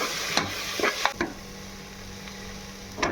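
Tomato and spice paste with turmeric and chili powder frying in a pan, a steady soft sizzle broken by several sharp spoon scrapes and taps as it is stirred.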